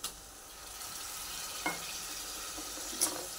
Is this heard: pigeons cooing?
no